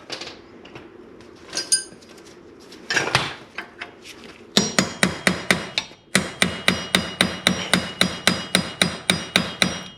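A 32 mm socket used to break loose the front axle nut on a 2011 Lincoln MKS: a few scattered metallic clanks, then rapid, loud, evenly spaced hammering impacts in two bursts.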